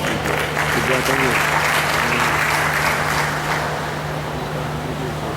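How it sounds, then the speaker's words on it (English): An audience at a ministry of commerce and industry event applauds, a steady crowd clapping with a voice over it and a low steady hum beneath, easing off slightly near the end. "she deserves a big round of applause"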